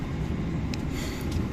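Interior of the KA Jayabaya passenger train on its morning run toward Surabaya, a steady low rumble of the moving carriage with faint higher clicks over it.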